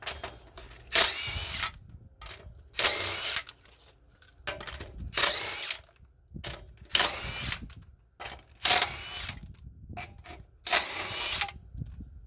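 Impact wrench with a 21mm socket driving the upper control arm bolts on a 2003–2009 Toyota 4Runner, heard as six loud, close bursts of about half a second each, spaced evenly and separated by short pauses with faint clicks.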